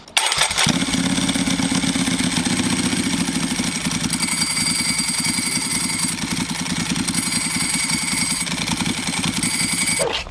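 A Ducati Monster 795 motorcycle engine starts and runs with a loud, steady clattering rumble close by, pulsing as it idles and revs for about ten seconds.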